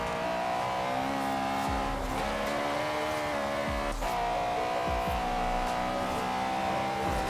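A Mini tuned to 700 horsepower, driven in the video game Forza Horizon 3: a continuous loud engine drone with shifting revs and brief tire squeals and thumps. There is no talking.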